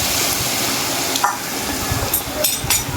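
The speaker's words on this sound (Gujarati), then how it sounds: "હલાવતા જઈશું એટલે વઘાર મિક્સ થતો જાય બધોય." A Gujarati spice tempering (vaghar) for handvo sizzles steadily in a pot while a spoon stirs it, with a constant loud hiss and occasional scraping strokes, up close.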